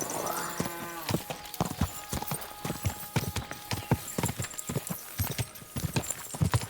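Horse hooves clip-clop in the medieval video game Kingdom Come: Deliverance, a loud, close run of irregular hoofbeats with a brief whinny near the start.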